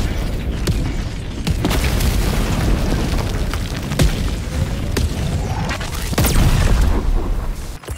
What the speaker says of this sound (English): Care, Hellbomb, close to us, Barbarian